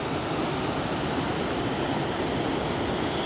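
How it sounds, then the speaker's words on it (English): Waterfall in Yosemite roaring as a dense, steady broadband rush of falling water, loud and unbroken, with no voices over it. "Just listen to their waterfall sounds."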